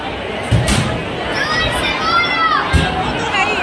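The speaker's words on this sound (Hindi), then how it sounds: "माता रानी के देख लो कितनी भीड़ है" A dense crowd of devotees fills Jhandewalan temple on the third day of Navratri, making a steady, close wash of chatter and shouting with a couple of sharper bursts, and voices talk throughout.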